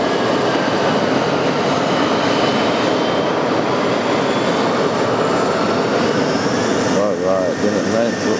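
A Copa Boeing 737 MAX 9 in new livery lands on runway 22 right at JFK, a loud, steady engine roar and rushing noise filling the whole stretch, with a spotter talking over it.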